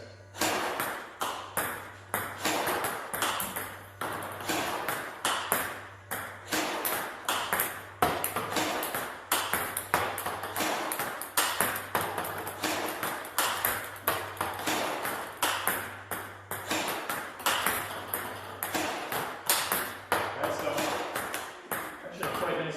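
Rapid, steady stream of sharp topspin loops of ping-pong balls struck with a Butterfly Innerforce Layer ALC blade, dozens of crisp knocks in a quick regular rhythm, close by with a low machine hum beneath.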